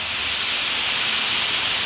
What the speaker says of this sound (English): we're gonna add a little bit of water. I'm gonna try to get that all in there to steam it all up.